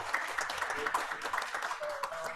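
Scattered audience clapping at a public-private cooperation workshop on independent living for adults with developmental disabilities; uneven, modest applause from a small room, with some murmuring under it.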